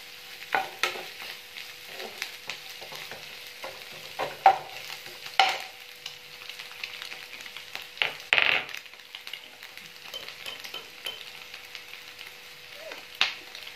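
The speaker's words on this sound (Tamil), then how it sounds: "அந்த காய் ஃப்ரை ஆகும் போது இதெல்லாமே இந்த முட்டையும் சேர்ந்து அது கூட கோல்டன் ப்ரௌனில் ஃப்ரை ஆகணுங்க" Vegetables and egg fry quietly in a pan for a macaroni dish, giving a faint steady sizzle broken by scattered scraping stirs of a utensil.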